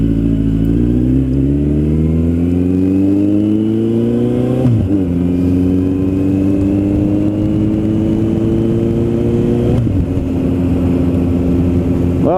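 A 2008 Suzuki Bandit 1250S motorcycle revs hard on a test ride, its engine pitch climbing steadily through two long pulls, dropping at each gear change and rising again, loud and close with no talk.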